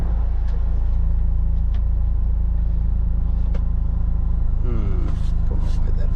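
A car engine, an 835, idles with its air conditioning switched on: a loud, steady low rumble with a constant hum, and faint voice sounds over it.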